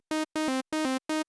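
Serum synth arpeggio built from saw and sine waves, four bright harmonic-rich note bursts in a quick staccato pattern with short gaps, clear and upfront with no voices.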